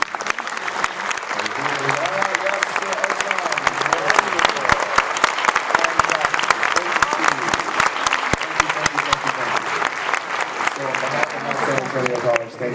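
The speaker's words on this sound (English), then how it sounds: "can we give all those music educators a big round of applause for what they do?" A big, sustained round of applause from an honor band concert audience for music educators, dense loud clapping with crowd noise and some voices mixed in throughout.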